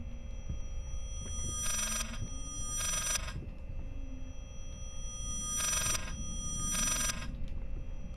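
A phone rings inside the horror game Layers of Fear, trilling bells arriving in two pairs of short bursts over a steady low game ambience, clear and fairly close with no voices.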